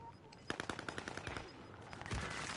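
Gunfire in the video game Warzone, a rapid burst of automatic shots in quick succession followed by a heavier thump, fairly faint and distant in the mix.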